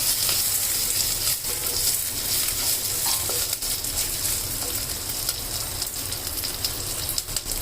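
Ginger, garlic and cumin fry in hot oil with fenugreek leaves, giving a steady, loud, close sizzle that runs unbroken for several seconds, with a few faint clicks of stirring and no voices.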